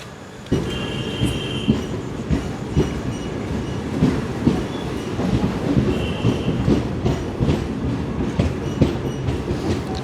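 The 22652 Chennai Superfast rolls along the rails, with a steady loud rumble, rhythmic clickety-clack of wheels over joints and brief wheel squeals, heard from inside the train after a quiet start.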